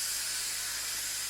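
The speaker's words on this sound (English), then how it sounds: "Okay, time for it to steam up again." Dirt Devil Easy Steam Express II DDSTM1500 steam cleaner releasing a steady, loud jet of steam, a continuous broadband hiss that holds unbroken throughout with no talk.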